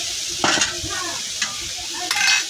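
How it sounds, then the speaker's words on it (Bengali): Lentil dumplings (bori) of black gram frying and being stirred in hot oil, a steady close sizzle broken by three sharp scraping strokes of the spatula against the pan. "এখন এই বড়ি কয়টা আবার একটু কষাবো ভালো করে"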